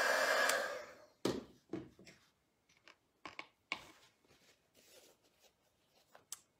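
A hair dryer blowing on freshly painted acrylic on a patriotic craft gnome gives a loud, steady whoosh for about a second before cutting off. Scattered soft taps, clicks and rustles of handling follow.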